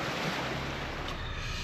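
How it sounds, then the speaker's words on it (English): A rushing waterfall on an off-road Jeep trail during a thunderstorm gives a loud, continuous roar of water for a moment, with no talk over it. "going up a rushing waterfall"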